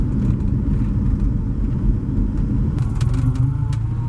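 A Volvo car's engine runs steadily with a continuous low rumble, loud and close, holding an even drone throughout with slight rises near the end.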